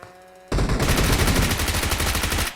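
Automatic gunfire from a shooter video game bursts in after a brief quiet moment, a loud, close, rapid stream of rounds hammering steadily for about two seconds before cutting off, with no talking over it.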